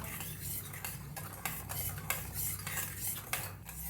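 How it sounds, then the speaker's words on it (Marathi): A spoon scrapes and clinks steadily against a pot as sugar is stirred into milk, close and moderately quiet, with a low background hum. "चांगलं असं विरगळून घेऊया साखर दुधात"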